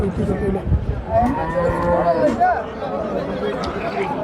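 A cow lets out a long, drawn-out moo amid a busy crowd at a cattle market in Hazratpur, with people chattering and calling all around.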